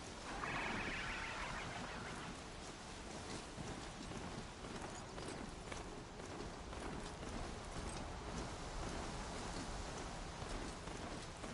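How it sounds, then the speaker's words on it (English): Steady rain falling outdoors, a continuous broadband hiss of drops on surfaces that holds at an even level throughout with no voices. "Rain."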